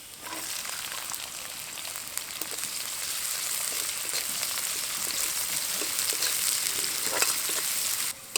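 Chopped capsicum sizzles in a frying pan, a continuous soft crackle of frying held at an even level throughout with no talk over it.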